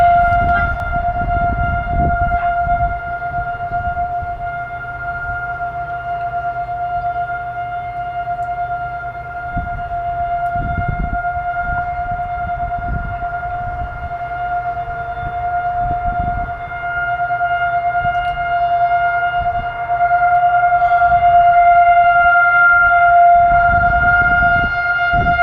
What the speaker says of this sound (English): First tornado drill, siren of the season.